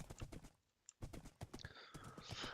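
In the Minecraft video game, a horse gallops at full speed through trees, with rapid rhythmic hoof clip-clops, brief rustles from branches, and a gap of near silence before the galloping resumes.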